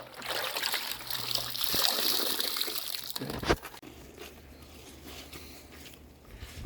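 Rinse water from a window-cleaning rinse bucket poured back into a bucket of soapy water, a steady splashing trickle for about three seconds ending in a brief splash, then quieter dripping and faint handling noise.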